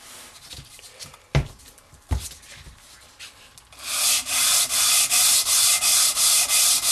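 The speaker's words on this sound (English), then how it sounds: "This is just 400 grit wet or dry sandpaper." Wet-or-dry 400 grit sandpaper rubbed steadily with light pressure during a hydrostatic motor rebuild, a few scattered scrapes and knocks giving way to loud, even back-and-forth sanding strokes in a close, regular rhythm.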